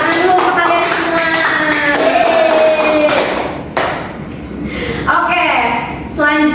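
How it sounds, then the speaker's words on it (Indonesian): Applause for a group of students at a public speaking class presentation, a crowd clapping continuously and fairly loud for several seconds, with taps and thumps mixed in and voices murmuring underneath. "Tepuk tangan dulu untuk kalian semua."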